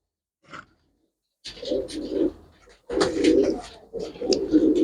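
Pigeons for sale, some crested with white eyes, coo in a few short, throaty bursts close by. Brief pauses separate the calls, and they grow fuller and busier toward the end.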